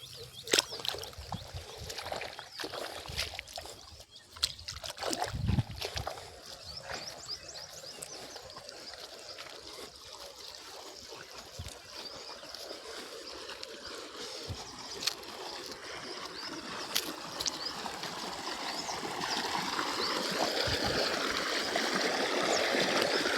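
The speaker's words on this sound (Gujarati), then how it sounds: "આપણે આ પાણી અત્યારે ચાલુ જ છે" Irrigation water flowing steadily into a farm field, a soft continuous rushing and trickle that grows fuller toward the end, with occasional faint knocks and no talking.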